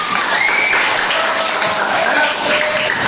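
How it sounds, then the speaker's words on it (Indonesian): Students in a classroom clap together, a loud, steady burst of applause lasting a few seconds, with faint voices mixed in. "Silakan tepuk tangan dulu."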